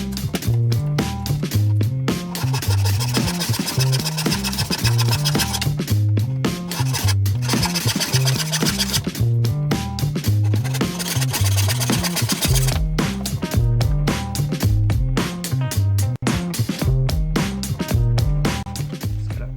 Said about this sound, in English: Just got a bit of sandpaper that I've screwed onto a bit of wood. Try and sand these off a little.